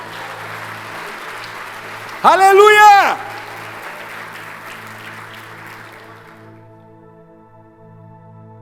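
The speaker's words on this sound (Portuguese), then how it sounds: "Se você recebe, dê um aplauso ao Senhor." A church congregation applauds softly and steadily, interrupted by a loud shouted exclamation from a single voice, before the clapping fades beneath sustained musical tones.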